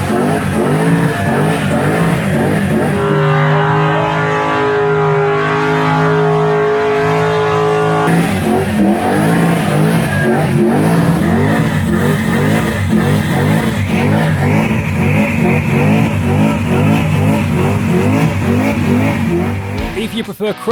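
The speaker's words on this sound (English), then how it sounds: "If you like your skids a little bit longer and a little bit angrier than what's allowed on Tuff Street, then you head over to Skid Row and let it" Cars doing long skids and hard revving at Summernats Skid Row, engines screaming through rising and falling revs with tyre squeal, loud and continuous, with a voice talking over the noise.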